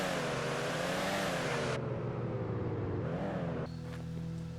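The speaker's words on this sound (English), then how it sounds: "New vehicle sounds have been added to each vehicle" Vehicle engine in the video game Vane, a loud steady droning hum with shifting pitch that drops in tone partway through and turns more muffled near the end.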